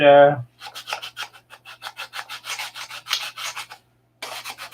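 Hand sanding an aircraft flap in a hangar, a steady series of close, rhythmic rasping strokes in quick succession, with a short pause before the strokes resume.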